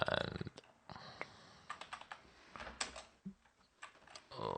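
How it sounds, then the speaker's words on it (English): Typing on a computer keyboard while editing a proxy server config file, heard as quiet, irregular clicks and key taps in short bursts, close and alone, with some louder strokes toward the end. "I'm typing something wrong here."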